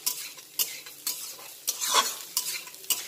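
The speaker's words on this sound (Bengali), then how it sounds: "আমার ভাতটা ভাজা হয়ে গেছে" Leftover rice stir-fried in a pan, with repeated scraping and stirring strokes of a spatula over a soft sizzle, close and fairly quiet with no talk.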